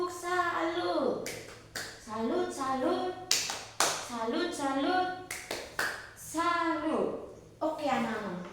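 Children in a classroom perform a rhythmic 'tepuk salut' clapping chant for a presenting group, sharp patterned claps punctuating their chanted voices in several short bursts.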